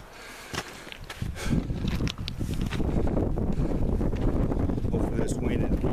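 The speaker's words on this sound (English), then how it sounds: "This wind and it's so hard that cuts out the audio" Strong mountain-top wind buffets the microphone in loud, continuous rumbling gusts that build and stay heavy, with no clear speech over it.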